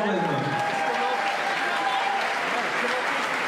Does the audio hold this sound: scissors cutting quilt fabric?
no